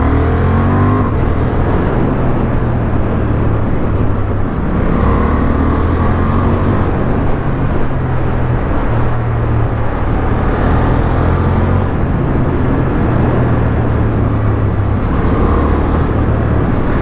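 A Honda Hornet 750 motorcycle engine drones steadily while riding, loud and continuous with a rising and falling pitch as the revs shift, mixed with heavy wind rush and no talk.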